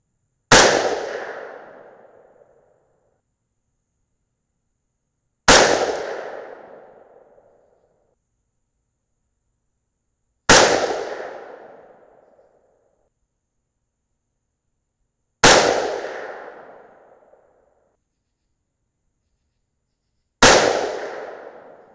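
A 6mm WOA rifle fires test groups with 25.9-grain AR Comp handloads: five loud, sharp shots, each followed by a short fading echo, spaced evenly about five seconds apart with silence between and no talk.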